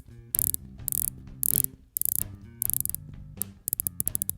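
The bezel of an Imperial Watch Co. Royalguard 200 dive watch turns with crisp, close ratcheting clicks in several quick bursts and short pauses.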